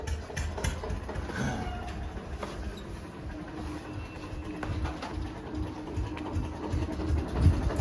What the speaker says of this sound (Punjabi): ਦੁਬਾਰੇ ਫੇਰ ਟਰੈਕਟਰ ਚਲਾਇਆ